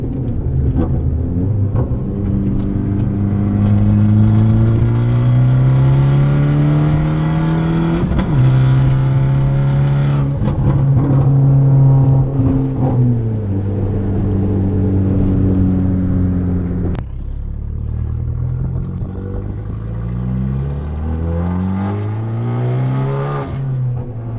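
An Abarth with a flashed tune making over 240 hp accelerates hard at three-quarter throttle, its loud engine note climbing through repeated rising sweeps with brief dips at gear changes, close and sustained.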